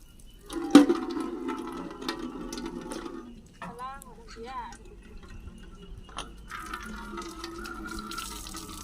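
Washing under running water at a village well shared by residents, with close, steady splashing and trickling, a sharp knock near the start, and people talking nearby.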